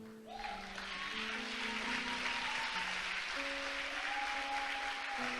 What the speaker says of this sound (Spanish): Yo hubiera dado un mejor aplauso al Señor.